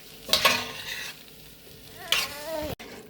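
A spoon stirring pork roast frying in a pan, two brief scraping stirs over a steady close sizzle.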